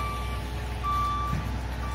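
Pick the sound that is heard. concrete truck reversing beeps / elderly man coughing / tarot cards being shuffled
concrete truck reversing beeps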